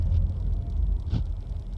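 A 2018 Subaru Impreza engine rumbles low inside the car, a dense steady drone with a brief rise partway through.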